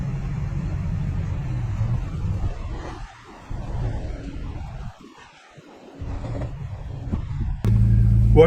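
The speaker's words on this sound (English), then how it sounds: "I'm probably going to drive both of the Prados through those obstacles." A Toyota Prado 4x4 crawling through off-road obstacles in rainy-season Grabouw, a steady low engine rumble that dips and then surges again as it climbs, heard from inside the vehicle, with no speech.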